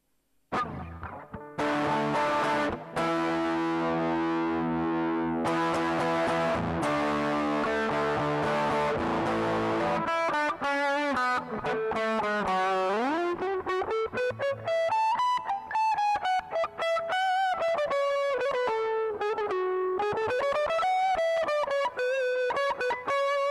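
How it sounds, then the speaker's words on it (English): Electric guitar heavily distorted through a Marshall Governor distortion pedal plays loud, sustained chords, then shifts into a wavering, bending lead line, with no one talking. "Marshall Governor distortion pedal."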